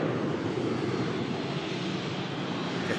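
A Ryanair airliner climbing out after takeoff from Manchester Airport gives a steady, even engine roar at moderate distance, unbroken and with no voices.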